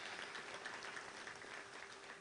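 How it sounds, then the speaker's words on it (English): Steady applause from a crowd at a touchdown club meeting, a dense continuous patter of clapping at moderate level with no voices over it. "So just want to give a round of applause, Jay."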